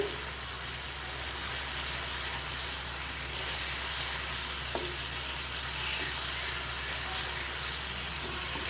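A pan of tamarind chutney with black salt, salt and dry ginger powder bubbles with a steady close sizzle, while a spoon scrapes and stirs it now and then and a faint voice sits low underneath.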